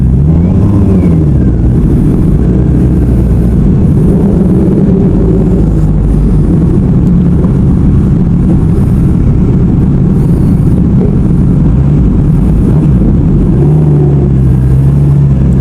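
Kawasaki big bikes such as the Z1000 and ZH2 on a group club ride, their steady droning engine rumble continuous and loud throughout, with some swelling tones as machines rev and pass.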